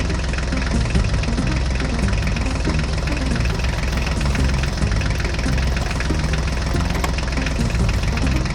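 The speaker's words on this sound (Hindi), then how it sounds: "चलो बच्चों, अब हम ट्रैक्टर गाड़ी को लेकर आगे चलते हैं।" A farm tractor's engine runs with a loud, steady, low rumbling idle and a continuous knocking throb that stays constant from start to finish, with no talking over it.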